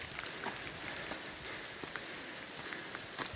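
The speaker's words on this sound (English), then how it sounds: "Hailing at the moment." Dense pattering of hail striking surfaces all around on a mountain hiking trail at Mount Granya, a constant crackling texture with occasional sharper ticks, steady and fairly close.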